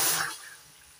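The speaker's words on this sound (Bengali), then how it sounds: "সেই বাটির মাপেরই 1 বাটি জল দিয়ে দিচ্ছি" A bowl of water is poured into a kadai set on a lit gas stove, a short splashing rush that is loudest at the start and fades quickly.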